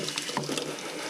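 A container with a little sediment in it is rinsed out under running water: a brief, close splashing and trickling burst, quiet and on its own.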